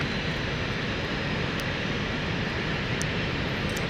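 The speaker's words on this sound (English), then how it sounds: "There is our Embraer." A Swiss Embraer jet at London City Airport on a misty day gives off a steady, dense engine roar. It is close and even for a few seconds, with no talk.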